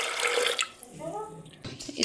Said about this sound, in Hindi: तो मैंने लिए हैं काबुली चने और इसमें डालेंगे थोड़ा सा पानी।